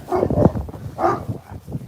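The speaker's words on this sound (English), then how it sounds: "have a good bark, Guac." A dog gives two short, close barks or woofs in quick succession outdoors, loud and clear, with no talking over them.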